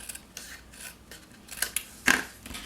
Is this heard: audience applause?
no